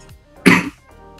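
One sharp, close cough from a man teaching, a single harsh burst of about a quarter second standing out from quiet room tone, with no other voices.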